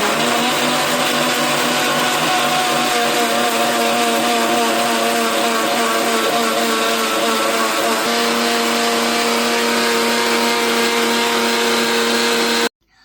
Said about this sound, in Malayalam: 2 മിനിറ്റ് നമ്മൾ ഇത് ജാർ വെച്ച് അരയ്ക്കാം.